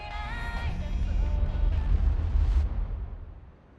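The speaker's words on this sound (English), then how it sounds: "Oh, that's an explosion." A large explosion in the video game 428 Shibuya Scramble: a loud, sustained low rumble with crackling debris that swells over about three seconds and then fades, with a faint musical tone at the start.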